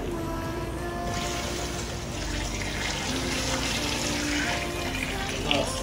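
Water poured steadily into a cooking pot of salted chicken for majboos, a continuous close rushing splash that lasts several seconds.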